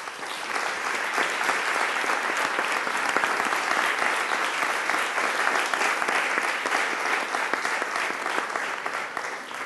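Dense, loud audience applause fills the room at a documentary presentation, a continuous roar of many clapping hands holding steady from start to finish.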